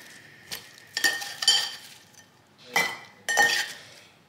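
Meal-prep food being portioned into bowls, with a handful of separate bright clinks and scrapes of utensils against dishes spaced over a few seconds, close and moderately loud with no talking.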